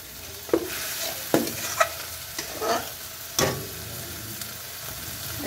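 Spice masala frying in oil over raised heat for an okra curry, with a steady sizzle and repeated sharp spatula scrapes and stirs at an irregular rhythm, close up with no talking.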